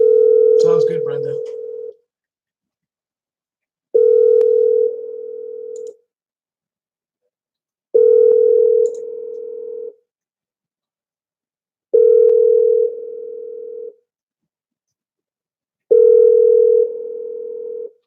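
Outgoing telephone call ringing back at a steady pace, five long tonal rings separated by silent gaps, clear and fairly loud, with a voice speaking briefly at the start.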